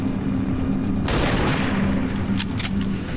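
Gunfire from a single shot in the video game XCOM 2, a loud sudden burst of crackling blasts over a steady low rumble, followed by a few fainter echoing reports.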